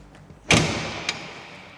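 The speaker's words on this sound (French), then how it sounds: "Ludivine, si tu veux bien fermer la porte. j'ai du mal à la fermer." The cab door of a Jungheinrich forklift shuts with one sharp, close thud, followed by a lighter latch click about half a second later, then a quiet ringing fade.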